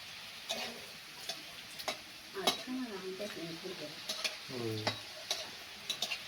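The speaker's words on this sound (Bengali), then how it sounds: "এর ভাজা হয়ে গেছে উচ্ছে ভাজাটা তোলাই নিচ্ছে" Slices of bitter gourd frying in a pan in a home kitchen, a faint steady sizzle broken by sharp utensil clicks and taps, with brief tonal sounds in the background.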